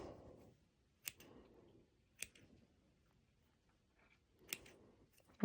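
Scissors snipping through a basting stitch on stretch fabric for a pole dance top, three or four crisp, quiet cuts spaced about a second apart with soft fabric rustling between them.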